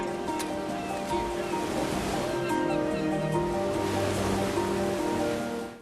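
Ocean surf washing steadily onto a beach in Mexico, a continuous broad roar of breaking waves with faint tonal background hum, ending in a fade.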